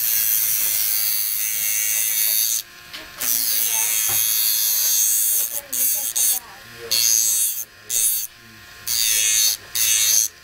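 An electric nail file grinds down the edge of an acrylic nail tip in repeated buzzing passes, starting and stopping in short bursts while someone talks nearby.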